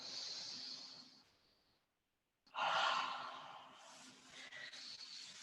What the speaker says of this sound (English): Big breath in, big breath out